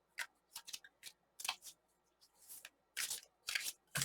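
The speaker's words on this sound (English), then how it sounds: "it's a new deck, so I'm just gonna give it a couple extra shuffles here" New tarot card deck being shuffled by hand: close, crisp riffling bursts of card flicks in an uneven rhythm, with short pauses between shuffles in a quiet room and no talking.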